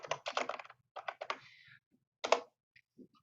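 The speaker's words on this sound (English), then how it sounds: "So you just keep typing it in." Student names are typed into a computer keyboard as bursts of quick, crisp key clicks. The clicks come in short clusters separated by pauses, and are faint and close.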